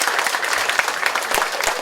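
A crowd applauds at the launch of an Indonesian 119 emergency call center, a soft continuous wash of clapping heard from across the hall, even and unbroken.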